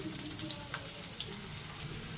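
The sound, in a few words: bitter gourd frying in mustard oil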